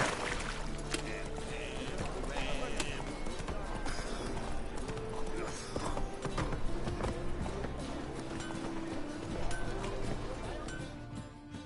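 Horse hooves clip-clop as the horse is ridden in The Witcher 3, a continuous trotting beat layered with game music and ambience, with spoken voices now and then over it.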